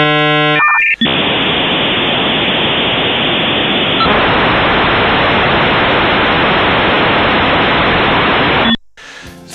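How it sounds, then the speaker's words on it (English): A dial-up internet modem connects: a short burst of beeping handshake tones, then a loud, continuous hiss of static noise that shifts once partway and stops abruptly near the end. "it was a time when it made that funny dial-up noise"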